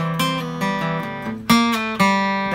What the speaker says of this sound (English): That's the sound of the minor third